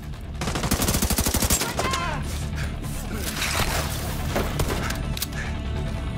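Rapid automatic gunfire bursts loud and close in The Division 2, a fast rattling volley followed by scattered shots and impacts over continuous battle ambience.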